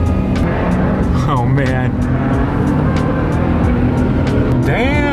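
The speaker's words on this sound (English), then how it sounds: "It sounds like a bunch of car guys leaving." Several car engines revving and rumbling nearby as vehicles, including widebody cars, pull away one after another from a cars and coffee meet, with a brief spoken exclamation over the noise.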